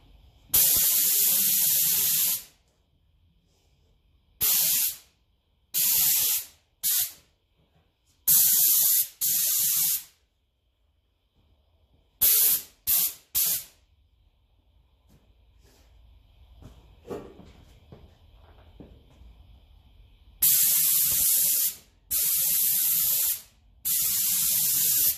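A paint spray gun set to low flow coats Massey Ferguson 35 tractor parts in loud hissing bursts, some long and some short, separated by silent pauses, with a quieter stretch in the middle.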